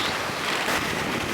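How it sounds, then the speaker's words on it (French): Strong 20-22 knot wind at sea on a sailboat, a constant loud broadband roar with buffeting against the microphone and the rush of waves beneath, unbroken and with no voices. "Là il y a 20-22 nœuds de vent"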